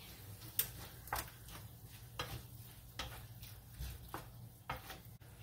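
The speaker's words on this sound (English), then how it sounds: "That was a little stressful there for a minute with the sizzling." Quiet, steady frying sizzle of hash with tomatoes with intermittent scraping and clinking of a utensil stirring in a pan, no voices.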